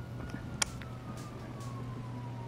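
Emergency vehicle sirens sound at a distance in GTA 5, probably ambulances and fire engines. A thin wailing tone drifts down in pitch over a steady low hum, with a few faint clicks and bangs.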